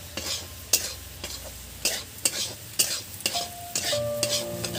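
Mixed vegetables fry in a pan for sooji upma and are stirred, giving a steady sizzle punctuated by a regular series of loud scraping strokes, with a few faint metallic rings near the end.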